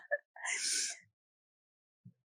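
A single sharp sneeze rings out close by, a brief burst that ends in a short silence before a faint soft noise.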